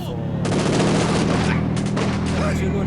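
Heavy battlefield gunfire at Stalingrad Rail Station in Company of Heroes 2, with rapid machine-gun bursts and booming shots layered over a constant low rumble, loud and continuous, with voices shouting underneath.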